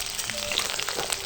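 Pointed gourd (potol) frying in a pan of oil with taro and potato, a steady close sizzle with soft crackles throughout, brief and without talk.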